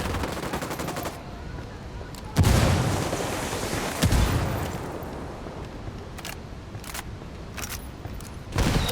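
A frag grenade bursts in Ghost Recon Wildlands, a loud broadband blast that decays over a second or two, with a second explosion following amid scattered bursts of gunfire.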